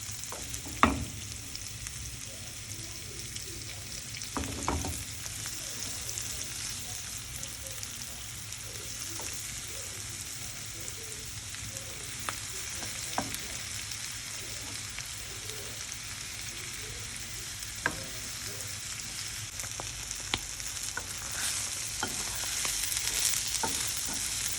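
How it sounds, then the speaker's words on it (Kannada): Paneer fries in oil in a kadai with a steady, fairly quiet sizzle, while a spatula scrapes and stirs the pan at irregular moments, leaving sharper clinks above the constant hiss; no one talks. "ಈಗ ಪನ್ನೀರ್ ಚೆನ್ನಾಗಿ ಫ್ರೈ ಆಗಿದೆ"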